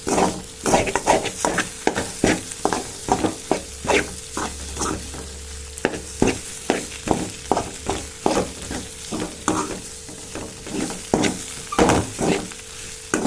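A spoon stirs and breaks up egg masala with onion and tomato in a sizzling pan. Quick, regular scraping strokes repeat over a soft frying hiss, with no talking.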